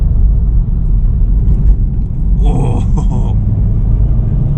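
A 2020 Subaru STI S209 drones with a steady low engine rumble from inside the car while cornering, with a brief exclamation from the driver midway.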